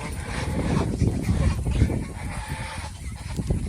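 Domestic geese on a goose farm honk continuously, a dense, loud, close chorus of overlapping calls with no voices.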